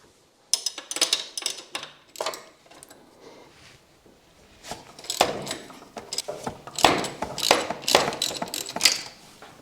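A ratchet wrench loosening the bolts on a Honda NX500 bracket while fitting crash bars, giving bursts of rapid close clicking with pauses between them and a busier, louder run of ratcheting toward the end.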